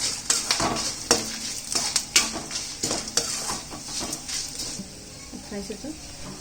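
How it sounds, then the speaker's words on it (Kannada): Grated coconut fries in a pan with green chillies and curry leaves for a Mangalore-style dish, as a spoon repeatedly scrapes and knocks the metal over a soft sizzle in an irregular rhythm. "ಕೊಬ್ಬರಿ ಹಾಕಿ ಫ್ರೈ ಮಾಡೋಣ"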